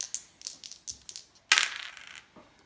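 Dice rolled for a classroom multiplication game, clattering onto a hard surface: a series of light sharp clicks and rattles, with a louder tumbling burst partway through and a faint final tap.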